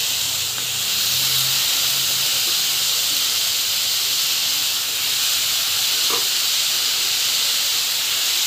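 Tomatoes hit a hot pan and set off a loud, steady hissing sizzle that holds with little change throughout.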